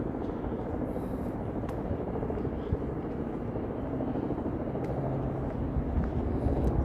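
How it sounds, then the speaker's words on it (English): A steady low rumble of a helicopter passing over downtown Toronto on an evening, continuous and moderately loud throughout. "And I can still hear that darn helicopter."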